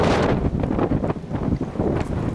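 Gusty wind buffets the microphone in a village on Tenerife in the Canary Islands, a loud, continuous low roar with rising and falling surges and no voices.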